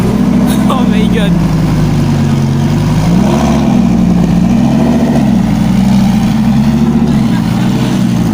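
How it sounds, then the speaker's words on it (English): A Lamborghini engine rumbles loud and close while driving through the streets of Paris, its low drone rising and falling with revs, with voices mixed in. "Driving Lamborghini on the streets of Paris."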